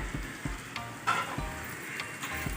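Green chillies coated in spices sizzle in a hot pan, a steady crackling fry with a few sharp spoon knocks against the metal, close and clear, no talking.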